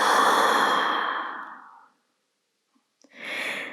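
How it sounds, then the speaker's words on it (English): A long, audible exhale out through the mouth during a restorative yoga session, close and breathy, fading out over about two seconds, followed by a short pause, a faint click and the start of another breath. "Exhale out the mouth."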